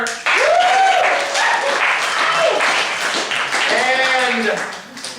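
Applause for Darren, who is working the booth at a Friday the 13th event, fills the room as steady crowd clapping, with a voice and whoops rising over it at moments.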